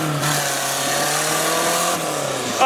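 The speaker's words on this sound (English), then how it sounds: "We're literally driving on a 4x4." A 4x4 off-road vehicle driving on plastic wrap tires at an off-road park, a loud, close, steady engine drone with a shifting tone throughout, ending in a brief sharper burst.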